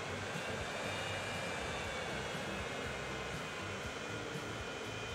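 Airplane taking off from a runway in Transport Fever 2, a loud, continuous engine roar and rushing hiss holding steady throughout, no voices.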